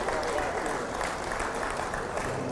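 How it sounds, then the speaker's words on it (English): Crowd at a county fair livestock show clapping for the grand drive, a continuous wash of applause from a fairly distant audience with voices mixed in. "give our grand drive for our market a round of applause"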